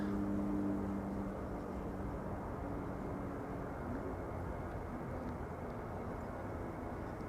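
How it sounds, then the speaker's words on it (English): A Boeing 747 departs Amsterdam Schiphol airport, giving a steady, fairly distant roar with low engine tones that holds evenly throughout and has no talk over it. "Indeed, Jane, some 747 action for the Seoul."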